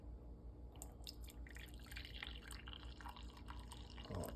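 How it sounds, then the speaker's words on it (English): Brewed coffee pours from a Keurig K-Duo carafe into a cup, a quiet trickling and dripping stream with small splashes, ending in a brief burst of louder liquid noise. "We're gonna go ahead and just pour it for"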